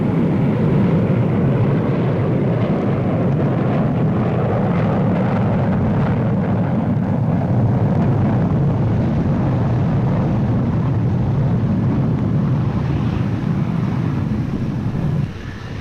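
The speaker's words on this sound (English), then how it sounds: "The B-57 attack bomber." A continuous loud roar of a B-57 attack bomber jet flying, steady and broad with wind-like rumble throughout, no voices.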